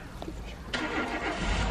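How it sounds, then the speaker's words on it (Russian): Car engine started nearby by the father, a sudden catch and rumble after a brief crank, with faint voices in the background. "О, папа уже машину завел."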